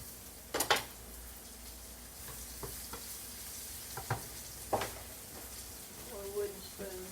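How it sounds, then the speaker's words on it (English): Okra and green beans fry in oil in a skillet, giving a soft, steady sizzle under scattered clinks and scrapes of a utensil against the pan, with a few sharper knocks along the way. "we're just going to let this sit here and fry."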